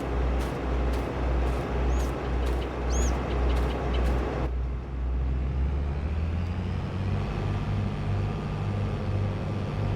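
A combine harvester on an American row crop farm drives out to the field, its deep diesel rumble steady and close after a run of regular clicking taps in the first few seconds.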